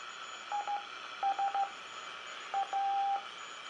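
CW Morse code comes through a Hallicrafters SX-130 receiver as clean, steady tone beeps of short and long lengths, sent in three small groups over a hissy background of static.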